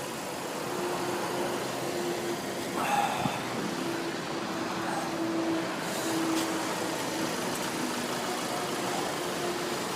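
A truck cruising on the A4 motorway in Poland, heard from inside the cab as a steady, moderate engine and road drone with faint low hum throughout.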